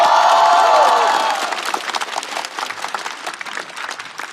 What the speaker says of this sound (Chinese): 让我们掌声欢迎 Shark